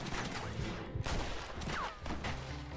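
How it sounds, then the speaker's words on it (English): Gunfire in the Western video game Red Dead Redemption, a dense fusillade of shots crackling through a busy game soundscape with music and effects, steady and fairly loud throughout. "Stop shooting, man"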